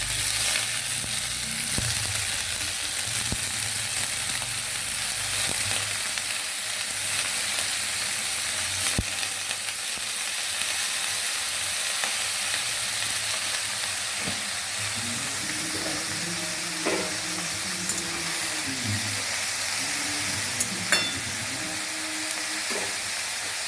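Chopped papaya fries in a wok with a continuous, even sizzle that never lets up, and a faint low hum joins in later.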